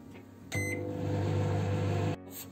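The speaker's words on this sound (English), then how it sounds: "I'm gonna send it to microwave oven for 2 minutes." Microwave oven heating food, a steady loud hum with a low drone running about one and a half seconds, starting and stopping abruptly between quieter moments.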